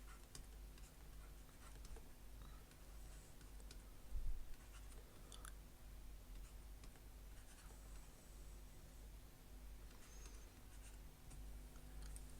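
A pen scratches faintly on paper, writing out example numbers by hand in short, intermittent strokes. A low steady hum sits underneath.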